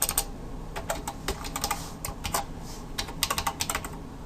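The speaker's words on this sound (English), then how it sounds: "And bear with my typing." Someone types quickly on a computer keyboard up close, with bursts of sharp key clicks falling in uneven runs and short pauses, alone and without talk.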